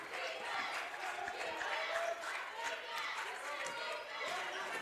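A Monday night home crowd at a women's college basketball game, Alaska against Montana State Billings in a GNAC opener, roars and cheers continuously. Voices blend into the broad, sustained din.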